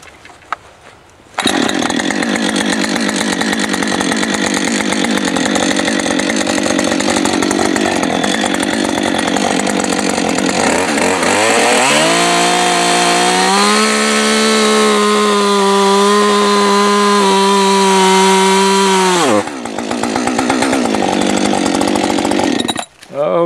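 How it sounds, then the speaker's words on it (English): A chainsaw plunge-cuts into a small-diameter leaning tree, starting abruptly, droning steadily, then dropping into a lower, laboring pitch as the bar bites deeper before the engine returns to idle near the end. "So I'm going to plunge in here and cut back like that."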